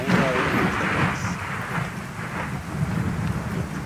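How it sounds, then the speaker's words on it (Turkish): Rain pours steadily in the survival video game Ark: Survival Evolved, a dense continuous hiss with low rumbling underneath, loud and unbroken, while players talk faintly over it. "Yağmur var ya."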